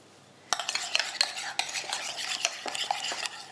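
A spoon stirs salt and pepper into herb mayonnaise in a bowl, giving a quick run of close, soft scraping and clicking strokes that starts abruptly and continues in an uneven rhythm.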